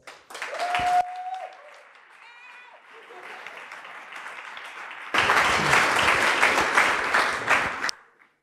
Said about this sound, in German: und einen herzlichen Applaus